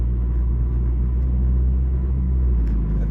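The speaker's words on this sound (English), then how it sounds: "Now you'll hear the gasoline engine kicking in as well." A BMW 330e M-Performance F30 plug-in hybrid, stage 1 tune with a lower resonator delete, as its gasoline engine kicks in: a steady deep rumbling drone heard from inside the car, with no talk.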